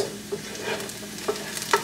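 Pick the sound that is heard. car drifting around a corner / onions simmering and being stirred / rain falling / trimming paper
onions simmering and being stirred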